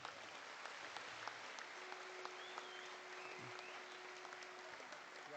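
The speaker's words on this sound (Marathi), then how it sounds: "या सर्वांसाठी एकदा जोरदार टाळ्या" A crowd at a Shiv Sena anniversary rally in Mumbai claps steadily, a dense wash of applause that holds for several seconds at moderate distance, with no speech over it.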